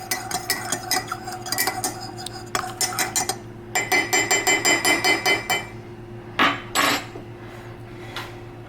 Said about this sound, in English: Now what you're gonna do is stir it.